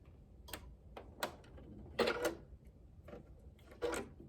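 A sewing machine stitches quilt binding in short separate bursts of rapid mechanical clatter with pauses between, close and fairly quiet.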